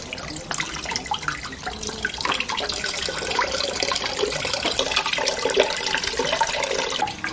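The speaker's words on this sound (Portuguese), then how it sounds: "o bagaço vai descendo conforme o vinho vai se escorrendo pelo balde" Red wine trickles and splashes out of grape pomace into a bucket during homemade winemaking, a continuous close liquid pour with small gurgles, fairly quiet and with no talk.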